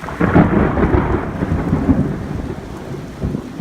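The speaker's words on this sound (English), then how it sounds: "You can hear it's definitely a pretty good thunderstorm going on" Steady rain with low, rolling thunder rumbling throughout, a continuous heavy wash of sound that stays fairly loud from start to finish.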